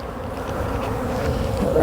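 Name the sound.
honey bees buzzing around, confused after hive removed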